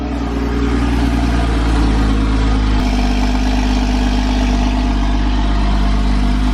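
A Porsche Boxster 981 with a stock exhaust idles loudly and steadily, with a dense low drone and a slight shift in tone partway through.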